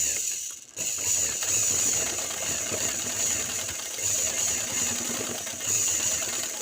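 A sewing machine runs steadily while stitching elastic onto the waistband of a straight pant, a close, continuous mechanical whir with a brief pause near the start and no talking.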